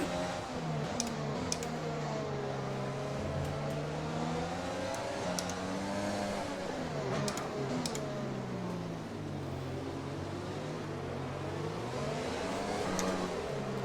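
F1 car engine in the F1 2020 game at a wet Monaco circuit, a loud, steady high-pitched whine rising and falling in pitch as the car accelerates and eases off through the corners.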